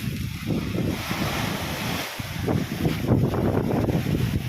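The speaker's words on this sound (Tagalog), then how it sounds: "Mataas yung dagat" High sea surf rolling onto a shore under strong wind, with steady broadband wash, low rumbling wave surges and gusty wind buffeting the microphone throughout, fairly loud and close.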